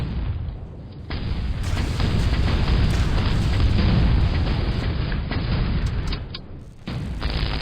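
Heavy green mortar fire in the game Starsiege: Tribes, a dense, continuous barrage of booming explosions that rumble loudly and overlap for the whole stretch, with only a brief dip near the end.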